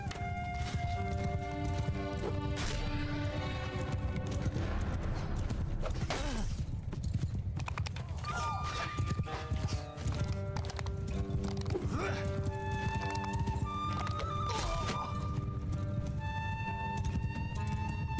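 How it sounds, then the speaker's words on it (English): Horses gallop with steady clip-clop hoofbeats and an occasional whinny in the medieval battle game Mount & Blade II: Bannerlord, loud and continuous under dense battle noise with some talk. "No, you're not getting the horse."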